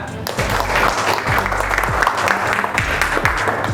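Classroom applause from students for their classmates, a dense, loud patter of clapping that holds steady throughout, with some low thumping and a faint murmur of voices underneath.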